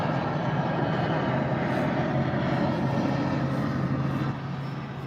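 Propeller airplane droning steadily overhead, a loud continuous engine rumble that holds for several seconds before easing slightly at the end, with no talk.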